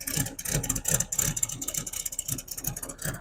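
A 1970 Brazilian-model Volkswagen van engine idles while warming up with a rough, pulsing rumble, steady and fairly close, with no voices.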